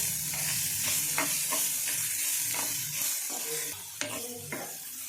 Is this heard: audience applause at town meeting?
no